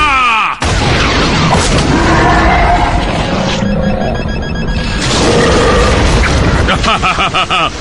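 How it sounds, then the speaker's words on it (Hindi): A big gun fires in a Transformers Animated cartoon scene: loud booming blasts with crashing, mechanical bursts fill the whole stretch, layered over a dense, busy soundtrack. "बड़ी गन से हमला करो। मेरे कहने पर फायर करना।"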